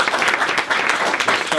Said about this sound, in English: round of applause for all the panelists